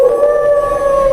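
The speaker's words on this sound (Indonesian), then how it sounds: "Mereka menjelaskan kepada Nabi Yakub bahwa Nabi Yusuf dimangsa serigala." Wolf howl sound effect in an educational adventure game, a loud, sustained steady tone with no pauses or break in pitch, alone without speech.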